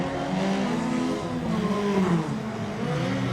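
Midget race cars roar around the Oceanview track, engines droning loudly and continuously with rising and falling pitch as the pack passes, a dense, close mechanical wash throughout.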